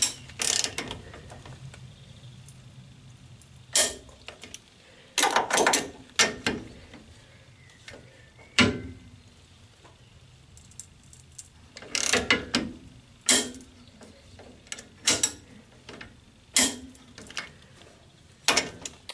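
A ratcheting torque wrench tightens the front silent blocks on a Citroën Traction 11B, with irregular bursts of rapid clicking separated by pauses in a quiet workshop.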